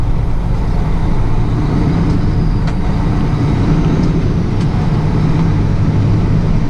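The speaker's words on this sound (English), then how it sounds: "cars coming from every direction, in and out." Cars, trucks and buses moving through a busy traffic area on a Friday in Hawaii, a steady, continuous rumble of engines and tyres at moderate distance, with a few faint passing hisses and no talk.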